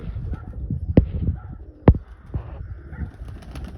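Pigeons in Mykolaiv coo softly at close range in low murmuring bursts, broken by two sharp clicks or knocks, with faint background noise.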